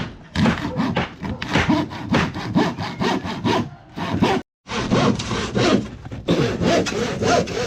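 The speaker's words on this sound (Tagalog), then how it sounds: "Talagang masipag yung lagari." Rapid back-and-forth strokes of a hand saw rasp through wood on a house construction site, steady and close, with one brief pause before the sawing resumes.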